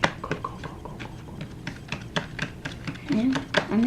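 Slime is mixed by hand, giving a quick run of sticky, squelchy clicks and pops close to the mic. A voice briefly talks near the end.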